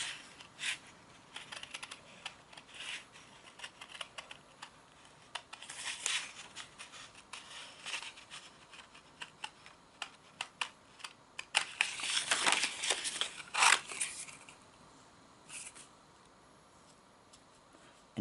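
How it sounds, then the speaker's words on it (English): Scissors snipping around the fine edges of printed paper lace, a run of small crisp cuts in irregular bursts, sparse at first and then denser and louder in the middle before thinning out. "it's going to cover up the lace that I'm cutting out right now"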